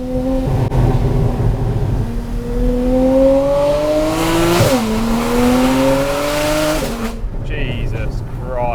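Loud, modified Porsche Cayman engine revving hard close up, a raspy rising and falling howl that climbs through repeated pitch sweeps before cutting off, with a voice reacting over it.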